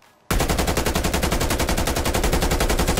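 Krieg rifle in Call of Duty Cold War, firing a sustained full-auto burst after a brief quiet start, with rapid, evenly spaced loud shots running to the end.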